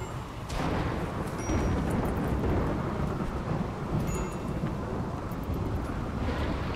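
In the video game Rimworld, steady heavy rain and rumbling thunder form a dense, loud, unbroken wash of sound with no voices over it.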